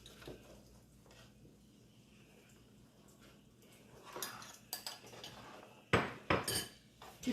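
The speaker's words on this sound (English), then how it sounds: "use the wooden spoon to stir it around" Ogbono soup stirred in a pot with a wooden spoon, starting as quiet soft scraping and building to a few louder close knocks and clatters against the pot near the end, with no talking.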